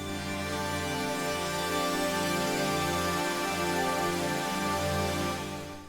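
A dense, dry granulated synth pad with no reverb drones steadily, its thick sustained tones shimmering with a fine grainy texture, holding evenly before easing off at the end.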